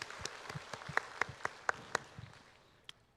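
Applause in a church service: a quiet, scattered round of hand clapping, with a few sharp louder claps standing out over about three seconds before it fades.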